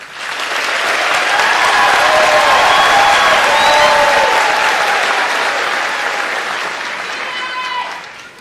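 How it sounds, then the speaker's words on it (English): Sustained applause from a large crowd at a high school graduation, steady and loud throughout, rising slightly then tapering near the end. "another round of applause, please, for the graduating class of 2022"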